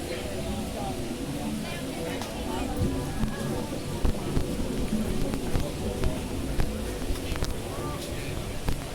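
Steady rain falls across Universal Orlando theme park on a wet October day, a dense continuous hiss with a low rumble and faint crowd murmur underneath.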